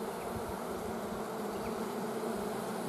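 Honey bees swarm over a hive frame, filling the air with a dense, steady buzz that stays close and unbroken throughout with no voices.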